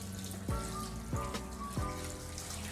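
Tap water runs steadily into a sink as pre-cooked lobster claw meat is rinsed, a continuous soft splashing broken by three brief gurgling swoops, close and quiet.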